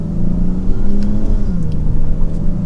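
A 2022 Dodge Charger GT AWD in Sport Mode pulls away in first gear, its engine droning loud and steady with a rising, shifting pitch close by, no talk over it.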